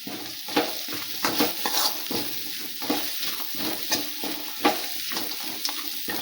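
Mango chitranna rice with grated coconut is stirred in a pan, with repeated scraping and soft thumps over a steady light sizzle, close and fairly loud.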